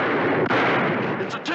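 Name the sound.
gunfire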